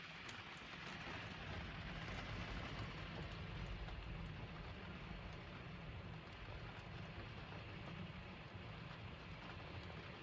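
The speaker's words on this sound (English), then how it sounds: "it's just started raining" Rain begins to fall outdoors as a faint, steady hiss of drops, dense and unbroken, with a low rumble underneath and no speech.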